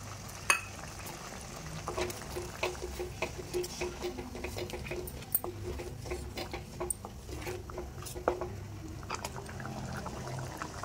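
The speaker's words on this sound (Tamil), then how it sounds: "கிரேவி நல்லா கொதிச்சு எண்ணெய் பிரிஞ்சு வர ஆரம்பிச்சிச்சு" Egg paniyaram gravy bubbles in a pan with oil separating on top, a busy crackle of small pops and sputters going on steadily throughout with no one talking.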